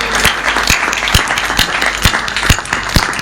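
A poetry-recitation audience claps at a Hindi poem about a mother, a steady crowd applause with sharp individual claps standing out in a regular rhythm, fairly close and sustained.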